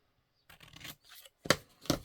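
Scissors cutting paper for journal cards, a few short close snips and rustles in quiet, the last two cuts sharp and distinct.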